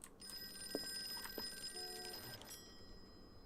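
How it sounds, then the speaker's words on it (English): A telephone rings in a video game, a faint electronic trill repeating a few times at low volume, with steady tonal beeps behind it and no talk. "What, the phone?"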